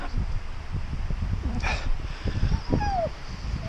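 Dogs whimper and whine close by, with a few high rising yips over a windy, rustling background.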